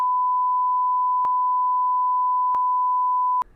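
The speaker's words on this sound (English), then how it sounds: "Sorry for the incessant beeping." An electronic beep with a steady pure tone runs continuously, broken by a few brief clicks at regular intervals, loud and close with nothing else heard.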